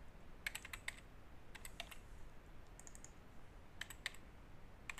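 A username and password are typed on a computer keyboard, with quiet, close keystrokes coming in short bursts and brief pauses between them, and no voices.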